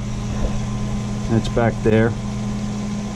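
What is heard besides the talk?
boat air conditioning pump running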